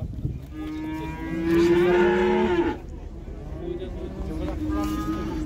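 A white cow at a livestock market lets out one drawn-out moo, then a shorter, fainter one, while people talk in the background.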